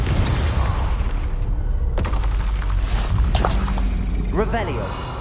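Blasts and crackling bursts from the Confringo blasting spell in Hogwarts Legacy, with a few sharp impacts over a steady low rumble and a voice speaking near the end.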